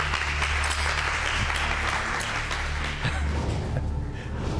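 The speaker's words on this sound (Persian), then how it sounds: "تشویقش کن." Studio audience applause during a Persian pantomime league game show, a steady dense patter of clapping that fills the whole stretch at even loudness with no talk on top.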